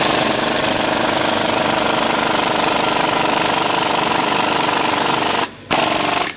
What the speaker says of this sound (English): See how that drives, really wedges that bead breaker in between the rim flange and the bead.